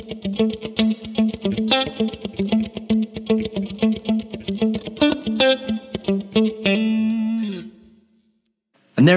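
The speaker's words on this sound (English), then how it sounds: "that's how to dial in a funk tone with the St. James plugin suite" Electric guitar played with a funk tone through the Blackstar St James plugin suite: tight, rhythmic muted chord strums with effects, ending on a sustained ringing chord that cuts off abruptly.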